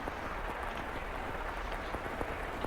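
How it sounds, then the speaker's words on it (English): Heavy video-game rain keeps up a constant wash of falling drops, with occasional distinct taps standing out from the steady hiss; no voices. "The rain just won't let up."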